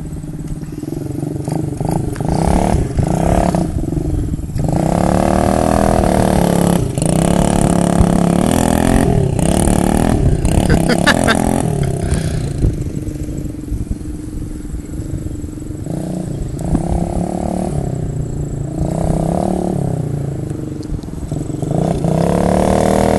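Pit bike engine revving in first gear outdoors on muddy ground, a loud, rasping small motor rising and falling through repeated throttle blips, then settling into a rougher, steadier drone.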